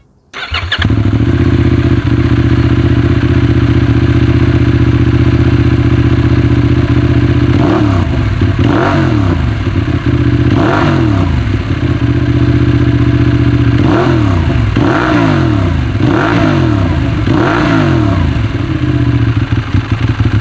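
A Benelli Leoncino 800 motorcycle idles loudly through its stock exhaust, then revs sharply in repeated blips, a quick double rise around the middle followed by a run of four or five throttle stabs, close and alone.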